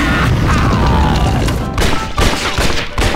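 Loud gunfire in Red Dead Revolver, a fast string of sharp shots and booming cracks against a resilient enemy, with a few heavier thuds mixed into the barrage.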